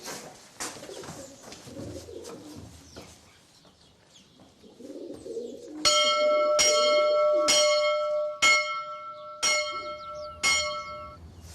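A village church bell in the Xaintrie area of Corrèze rings in evenly spaced clear strokes, about seven in a row, with pigeons cooing nearby beforehand.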